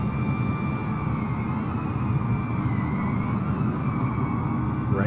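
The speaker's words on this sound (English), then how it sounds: "it's like a power generator in the back of the plane" Steady whine and low roar of an airliner's auxiliary power unit running at the back of the plane in Microsoft Flight Simulator, a loud, constant drone with faint tonal hums holding throughout.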